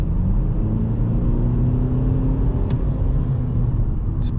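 Volkswagen Golf 8 (2020) driving at night, a steady low engine and road rumble with tyre whir holding level throughout, a faint rising tone suggesting acceleration, no talk.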